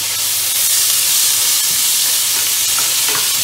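Garlic fries in a hot pan with a loud, continuous sizzle and steamy hiss, steady and close throughout with faint stirring beneath.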